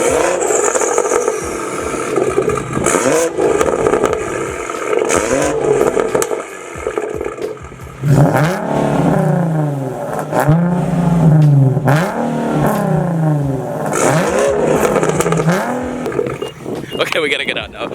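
Straight-piped modified BMW 340i M Sport accelerating hard on a drive, its engine note rising and falling through gear changes while people talk over it throughout.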